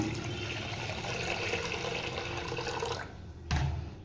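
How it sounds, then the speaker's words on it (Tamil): Little millet being rinsed in water, a steady sloshing, swishing wash that runs continuously and close, then briefly quiets before a short splash near the end. "நம்ம 2-3 டைம் இந்த அழுக்கு தண்ணி போகிற மாதிரி வாஷ் பண்ணிக்கணும்."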